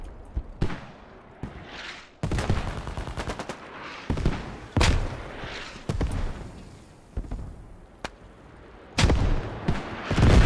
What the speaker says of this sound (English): That is a mortar strike called in by the MEI to try to cut off the U.S. advance into their territory.